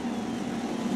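Sprint car engines rumble at idle in a low, steady, continuous drone, moderately loud and unbroken for a short moment.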